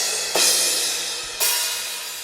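Cymbals from a Superior Drummer 3 Pop Punk kit: two bright, washy crashes, the first near 0.3 seconds and the second about a second later, each ringing out and decaying slowly, close and fairly loud with no voices.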